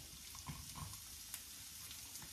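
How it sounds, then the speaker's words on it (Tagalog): Chopped onion frying in a pan as the start of an egg omelette, a soft steady sizzle with faint crackles and a few light clinks, quiet and alone. "i-fry muna natin yung onion to make it extra yummy"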